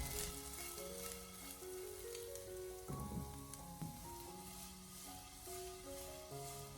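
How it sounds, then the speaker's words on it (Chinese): Blanched Chinese yam pieces pan-fry in oil over medium heat, giving a steady, close sizzle with light crackle that runs unbroken for the whole stretch, while a tonal layer sounds underneath. "接着再把焯水过后的山药给它放进锅里面，给它煎制一下"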